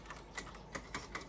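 Brisk typing on a Freewrite Signature Edition, the Ernest Hemingway model writing keyboard, with crisp individual key clicks in an irregular run and a few louder strikes, close up and with no talking.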